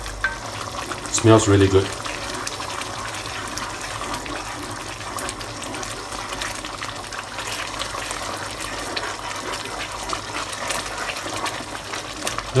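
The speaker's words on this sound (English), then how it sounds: "stir them while you are dripping the cornstarch solution in" A pan of sauce stirred steadily while cornstarch solution drips in, giving a continuous soft bubbling sizzle with a brief louder scrape early on; a voice speaks briefly over it.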